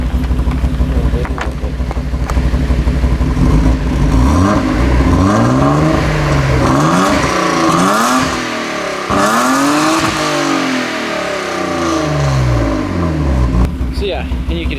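Nissan 240SX engine with a misfire, revved repeatedly in rising and falling sweeps with an uneven, stumbling note, a voice talking over it at times.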